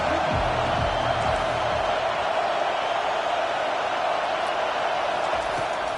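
Stadium crowd noise in the NCAA 25 college football video game, a steady roar of a large crowd holding at a constant loud level with faint low thumps early on.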